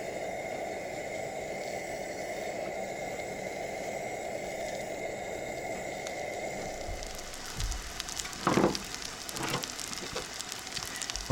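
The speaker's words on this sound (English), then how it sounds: "Let's grease up our frying pan" Steady crackling sizzle of food frying in a greased skillet, close and continuous, with a few louder pops and clatters toward the end.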